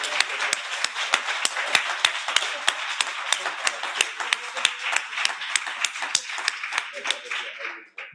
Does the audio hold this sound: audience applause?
yes